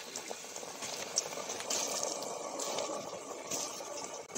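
Soya bean koftas sizzle and bubble in reheated deep-frying oil in a kadhai. A continuous hissing crackle carries on with small pops scattered through it and no talk.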